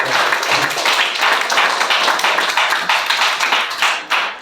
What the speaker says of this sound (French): Applaudissons pour glorifier notre Seigneur.